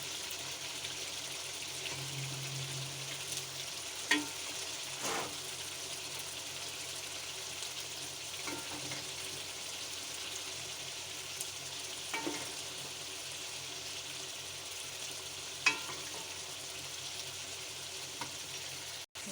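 Mutton sautéing in masala for aloo gosht, a steady low sizzle running throughout with occasional stirring clinks and scrapes, fairly quiet and alone.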